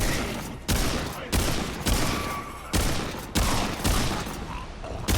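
Gunfire in the video game Remnant 2: a rhythmic series of loud, sharp shots, about eight bursts each trailing into a decaying roar, heavy and close.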